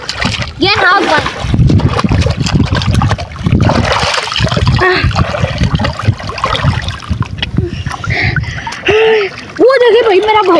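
Splashing in deep water at a dam after a dive: heavy, repeated splashes and churning water with children and other people shouting and talking loudly over it throughout.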